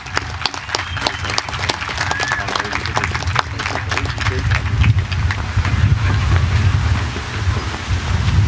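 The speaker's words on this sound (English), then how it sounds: "Another round of applause for these young ladies" Applause rolls through a crowd at a 2022 Santana High School graduation ceremony for a group of young women graduates, a dense, steady patter of many hands with some cheering mixed in, holding loud throughout.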